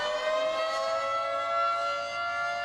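A civil defense siren holds a steady, loud, rich tone that sounds close, with no other sounds around it.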